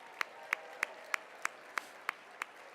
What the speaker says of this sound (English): could we have a big round of applause and thanks for the volunteers?